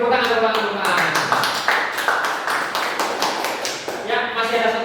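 Classroom audience at a senior high school clapping hands together, a dense burst of many claps sustained for several seconds, loud and close, with voices mixed in underneath.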